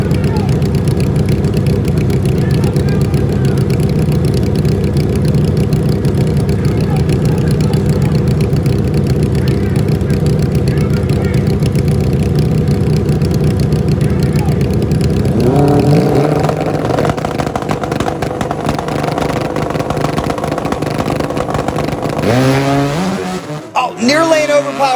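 800-horsepower drag-racing motorcycles roar on a slippery track, a dense sustained engine drone that shifts into rising revs and sharp throttle bursts toward the end, with an announcer talking excitedly over it.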